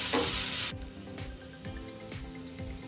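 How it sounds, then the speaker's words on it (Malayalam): Potatoes sauté with salt in a pan for a Kerala-style stir-fry: a bright hiss at first, then a softer sizzle under repeated rhythmic scrapes of a spoon stirring, close up and without voices. "ആവശ്യത്തിന് ഉപ്പ് ചേർത്ത് കൊടുക്കാം. ഇതിനെ ഒന്ന് ചെറുതായിട്ട് വഴറ്റിയെടുക്കാം."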